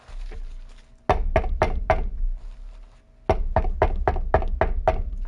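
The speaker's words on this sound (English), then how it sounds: "I reach Sayori's house and knock on the door" A door is knocked on in the visual novel Doki Doki: first a run of four firm wooden raps, then a pause and a second, longer burst of about six or seven, close and loud over a quiet background hum.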